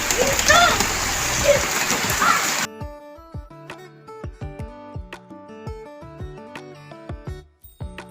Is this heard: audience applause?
no